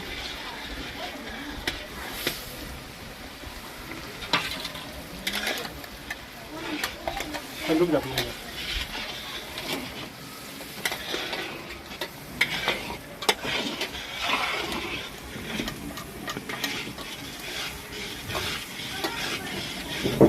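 Masala with ginger and garlic frying and being stirred in a pan for a fish feast, an irregular scraping and sizzling under intermittent talk, with the clatter of the spoon against the pan coming in bursts.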